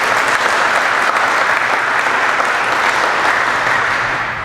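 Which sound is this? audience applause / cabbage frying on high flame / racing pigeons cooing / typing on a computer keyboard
audience applause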